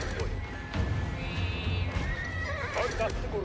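Horses neigh and clatter their hooves in the Age of Empires IV strategy game during a Mongol siege of Kiev, with whinnies rising over a steady low rumble of battle noise and no talk.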